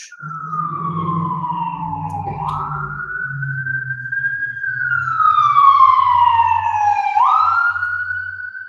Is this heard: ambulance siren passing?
yes